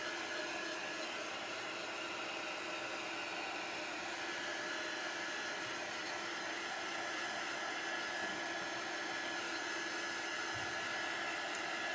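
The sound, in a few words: hair dryer drying a craft project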